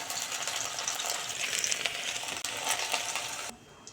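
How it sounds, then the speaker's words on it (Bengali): Dried red chillies crackle in hot oil with jute leaves (pat shak) being stirred in a pan, a steady bright sizzle with small scraping clinks, easing off sharply near the end. "এই তেলে আরেকটু তেল দিয়ে শুকনো লঙ্কা ফোড়ন দিয়ে পাট শাকটা একটু নেড়ে চেড়ে"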